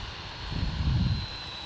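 A Freewing F-14 electric ducted fan RC jet passes with a steady turbine whine over a low rumble that swells briefly and then eases, heard alone outdoors.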